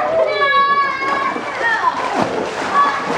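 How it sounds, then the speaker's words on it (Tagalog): Water splashes and sloshes as a container is filled by hand, a steady close-up spatter lasting a few seconds while children talk over it. "Wag ganyan at sayang ang tubig."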